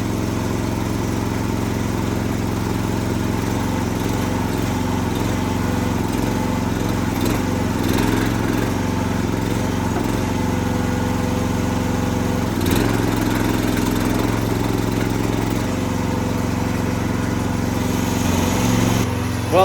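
A small gas engine on a log splitter, run again after sitting unused since early spring, drones steadily and fairly loud with a low buzzing, lawn-mower-like tone, close by and with no one talking.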